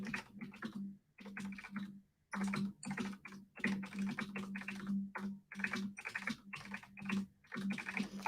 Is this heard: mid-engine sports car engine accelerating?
no